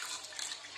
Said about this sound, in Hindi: और दूसरे ग्लास में थोड़ा सा पानी डाल रही हूँ